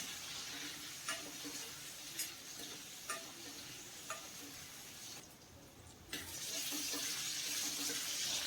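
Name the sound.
potatoes with turmeric frying in pan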